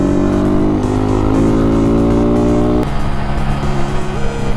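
Small motorbike engine revs hard under full throttle, a loud buzzing whine rising in pitch through gear changes, close and continuous.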